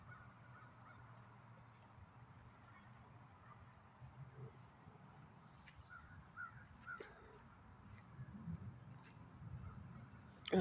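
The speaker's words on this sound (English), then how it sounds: "then the bird will crackle again" A crow cawing outdoors on mountain grounds at the Carl Sandburg home in Flat Rock, North Carolina, a few faint distant calls over a low steady rumble of wind and ambience.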